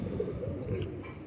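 Soft, low cooing from prized pigeons kept by a breeder, murmuring close by under a faint background hum, with no one speaking.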